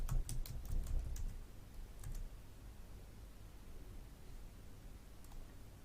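Computer keyboard keys tapped in a short burst while a password is entered, close and crisp over a low background hiss, then quiet room noise for the remaining seconds.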